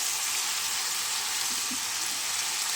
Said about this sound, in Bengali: এখন আমি একটু নাড়াচাড়া দিয়ে অল্প জল দিয়ে দেবো